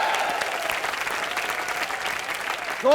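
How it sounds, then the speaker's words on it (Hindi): Enthusiastic studio audience applause for a comedy TV show's performers, a lively continuous patter of clapping that swells with a brief musical sting at the end. "जोरदार तालियां रॉकी हैंडसम और टीम के लिए।"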